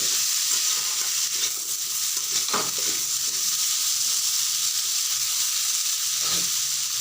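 Potatoes with dried loitta fish cooking in a pan over lowered gas heat, a steady loud sizzle and hiss throughout with a couple of faint stirring scrapes, and no voices.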